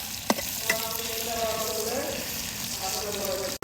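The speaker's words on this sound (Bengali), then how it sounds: "এখন হচ্ছে কড়াইয়ে পেঁয়াজ আর কাঁচামরিচ কুচি দিয়ে দিলাম।" Chopped onions and green chilies fry in oil in a karai with a steady, even sizzle and hiss, a voice talking softly in the background and a couple of faint clinks near the start.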